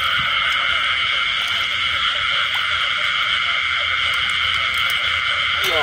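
A dense chorus of frogs croaks at night beside an old jackfruit orchard, a loud continuous trilling drone with occasional nearer calls.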